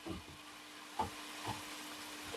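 Onions frying in a pan with a quarter spoon of baking soda added, a soft steady sizzle with a few faint clinks and bumps, low and continuous with no talk.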